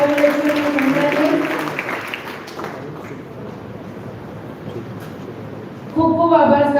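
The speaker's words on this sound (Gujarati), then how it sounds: "તાળીઓના ગડગડાટથી વધાવી લઈશું" An audience at a mother-tongue festival event bursts into sustained, dense applause that fades gradually to a lighter patter, then a loud voice cuts back in near the end.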